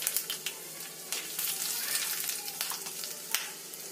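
Dried red chillies fry with mustard and fenugreek seeds in a spoonful of hot oil for a tamarind pickle tempering, a loud continuous sizzle close by, dotted with quick pops and crackles, no voices.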